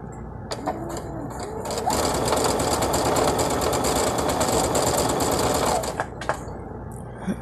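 A sewing machine with a regular presser foot runs a straight stitch at length 3.5, a fast even mechanical whir and needle chatter that starts, holds steadily for several seconds, then stops, loud and close.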